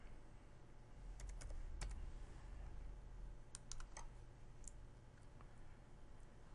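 A computer keyboard clicks under quick bursts of typing as a domain name is entered, the keystrokes close and crisp in short clustered runs over a quiet room hum.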